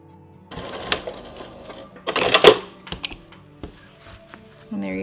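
Sewing machine stitching a reusable cloth cover for a kombucha jar, with scattered short mechanical clicks and one denser burst of rapid stitching in the middle, close and fairly loud, with no talk.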